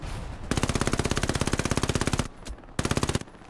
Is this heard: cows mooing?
no